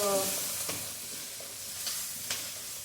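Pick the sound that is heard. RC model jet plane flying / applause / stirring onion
stirring onion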